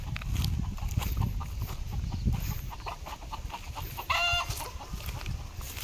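Chickens clucking and a rooster calling in a rural farmyard, faint and somewhat distant over low rumbling background noise, with one clearer call near the end.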